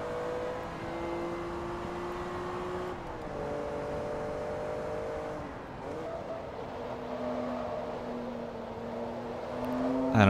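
A yellow Ferrari 612 engine hums steadily in the Forza Motorsport 2 racing game, its pitch stepping down and shifting between gears before the revs climb sharply at the very end.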